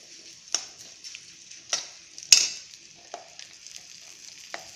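Chilli powder stirred into hot oil for a rambutan pickle, with faint frying hiss and several sharp scraping clinks of a spoon against the pan, spaced irregularly, close and with no voices.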